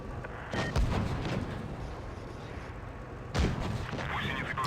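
Two booming tank cannon shots from an IS-2Sh in World of Tanks Blitz ring out about three seconds apart. Each is loud and sharp with a rumbling tail, over steady battle noise, and someone talks over them.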